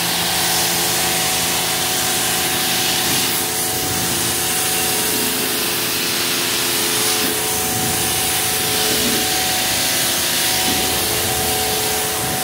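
A constant hissing spray of water from a hose rinsing a car runs steadily and loudly throughout, without pause, no voices present.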